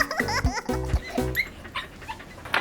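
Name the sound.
dog barking and whimpering in a Hindi cartoon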